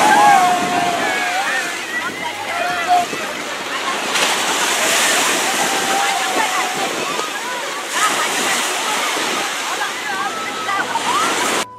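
Ocean waves washing onto a beach during a group beach day, a steady broad rush of surf that fills the whole stretch, with people's voices and chatter scattered on top.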